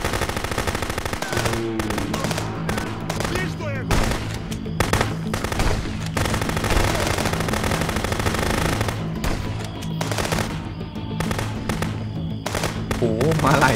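Rapid automatic gunfire in the video game Contraband Police rattles in long bursts over a steady game soundtrack, with short pauses and scattered single shots between volleys.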